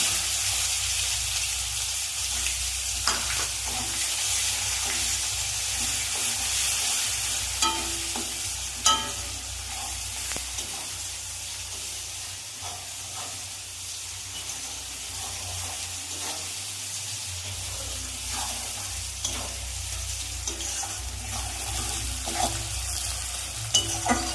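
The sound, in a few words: chopped onions frying in a pan with prawns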